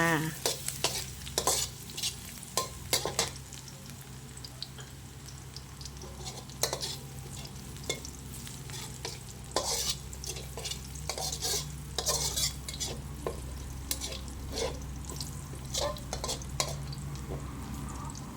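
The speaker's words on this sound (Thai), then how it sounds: "เจียวกระเทียมให้หอมจ้า" Minced garlic sizzles steadily in a hot pan for glass noodles with cabbage and egg, while a spatula scrapes and stirs repeatedly in sharp, close clatters over the constant frying hiss.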